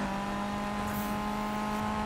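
Volvo 242 engine in the Need for Speed racing game, holding a steady droning pull under acceleration, loud and continuous with no talking.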